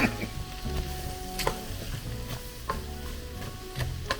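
Cabbage fries in a pan with a steady, close sizzle, and sharp clicks and scrapes of a stirring utensil land about once a second. No one speaks.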